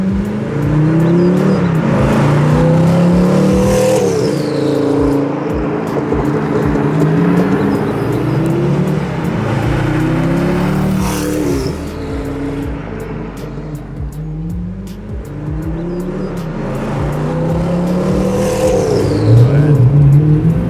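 Hennessey Venom F5 Roadster, a $3 million supercar, loudly revving and accelerating through repeated rising engine sweeps that fall back at each shift, close and sustained with strong wind and road roar and no voices.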